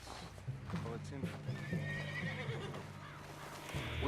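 A horse in Red Dead Redemption 2 whinnies and snorts near at hand while its hooves clip-clop in a loose rhythm, with game sounds around it.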